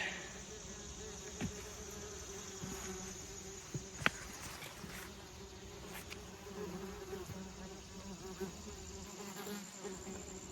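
Insects buzzing and swarming around a disturbed mature nest inside a house, a steady, dense drone with a few sharp knocks and clicks over the top.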